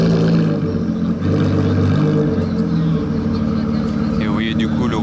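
Ferrari Daytona SP3 V12 engine and race-style exhaust at the Monaco Grand Prix, a loud deep roar with revving pitch changes, close by, with someone talking over it.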